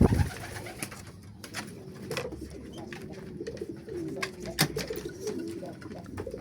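Pigeons coo softly in their loft in low repeated murmurs amid scattered flutters and clicks, with no talking over the steady, close flock sound.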